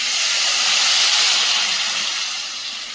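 Water poured into a pan of sautéed garden vegetables for a thin curry, giving a loud, steady steamy hiss that swells and then slowly eases over a few seconds.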